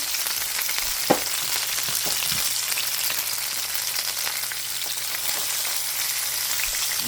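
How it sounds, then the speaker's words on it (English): Steady, loud sizzling of food frying in a pan on low heat, a continuous crackling hiss with a faint clink or two early on. "And they're still frying."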